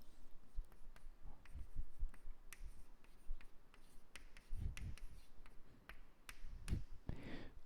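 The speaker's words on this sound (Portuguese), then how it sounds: "Está na hora de eu voltar para esse espaço e escrever uma palavrinha." Chalk tapping and scraping on a classroom board as a teacher writes a word: scattered sharp clicks and short scratchy strokes, faint and close, with no talking.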